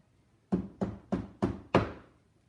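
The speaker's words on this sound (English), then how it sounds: "someone knocked on the door" Five firm knocks on a wooden door, evenly spaced and fairly close, each a dull thud with a short decay, heard alone against near silence.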